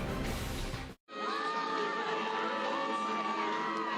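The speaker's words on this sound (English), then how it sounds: "Sellout crowd here at the Spectrum in Logan, Utah, has seen Utah State storm back from 21 down" A sellout arena crowd at the Spectrum in Logan, Utah roars and cheers loudly during a college basketball game between Nevada and Utah State, with a brief break in the sound before the steady cheering resumes.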